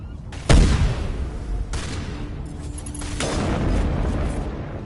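A sniper rifle firing explosive rounds in Mass Effect lets off a heavy booming shot, followed by two more muffled blasts, each trailing into a rumbling decay, with a faint voice underneath.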